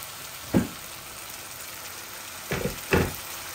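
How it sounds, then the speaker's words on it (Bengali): Hot boiled water from a kettle poured into a sizzling pan of tilapia fish curry with potatoes, a low steady sizzle punctuated by three short bursts of splashing and hissing, close by with no talk. "এগুলা কেটলের গরম পানি,"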